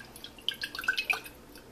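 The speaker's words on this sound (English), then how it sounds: "Then I fill it just a little bit with water." A little water is trickled into a lasagna dish over the ricotta layer, heard as a quick run of small, light drips and splashes, close by and fairly soft, with no talking.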